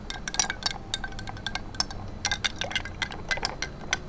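A Bulleit Rye whiskey cocktail stirred with ice in a glass: quick, irregular bright clinks and tinkles of ice against the glass, fairly close, over a low room hum.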